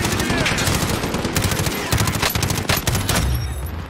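Assault rifle gunfire in Call of Duty Warzone, rapid sustained automatic bursts cracking loud and close, with short gaps between strings of shots.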